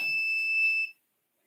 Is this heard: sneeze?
no